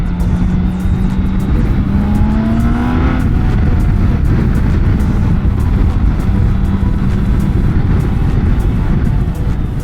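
A 2024 BMW K1600B bagger motorcycle is ridden at speed, its six-cylinder engine droning loudly and continuously under heavy wind rush. Pitch rises briefly as the rider accelerates, then the engine settles into a steady roar.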